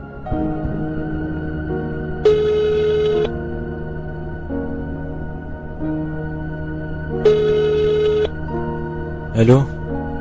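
A telephone rings in a steady electronic ringtone pattern, repeating in long tonal bursts under a sustained music bed, with a brief voice-like sound near the end.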